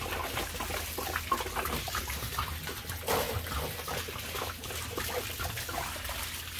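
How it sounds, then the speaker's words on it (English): Warm water poured into a concrete mix, a steady close trickle and splash lasting several seconds with slight surges and a few soft knocks, no voices over it. "Now we gotta add our water. Nice warm water,"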